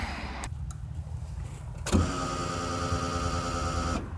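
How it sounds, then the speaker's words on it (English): A quiet hum from a newly fitted Walbro 255 lph fuel pump, a brief whirring crank, then at about two seconds a turbocharged 1.6 Mazda Miata MX-5 engine catches and keeps idling with a steady, even drone. "Let's see if the car starts."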